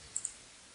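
Two quick, light computer mouse clicks in close succession, crisp and near, over a faint steady room hiss with no voices.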